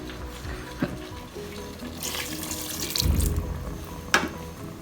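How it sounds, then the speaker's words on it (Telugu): Two glasses of water pour and splash steadily into a Geek Robocook electric cooker, swelling louder midway, with a few faint knocks around it. "నేను ఇప్పుడు ఇందులో ఈరోజు 2 గ్లాసెస్ వాటర్ని ఇస్తున్నాను"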